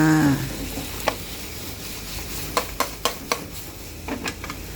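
Chopped ridge gourd is tossed into a pan of cooked egg and pork and stirred, giving a faint sizzle under a string of sharp utensil scrapes and clicks against the pan.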